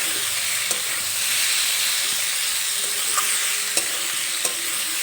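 Kakrol (spiny gourd) frying with masala in a pan over a medium gas flame, a continuous close hiss and sizzle with a few light clicks of stirring, no one speaking.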